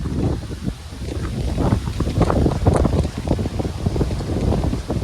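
Strong gusting wind buffets the microphone on an open fell walk in the Lake District along the Kentmere horseshoe, a loud, rumbling roar that rises and falls with no voices.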